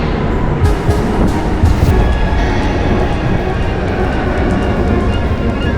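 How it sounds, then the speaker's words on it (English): Steady loud rumble of a Munich underground subway train in motion, a continuous low roar with rattling and faint high squeals, no talking. "Time to take underground"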